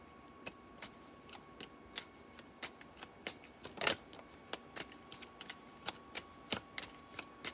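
Tarot cards shuffled by hand in a quiet room, a close, crisp series of riffling snaps and soft slaps at an irregular, busy pace, with one louder burst midway.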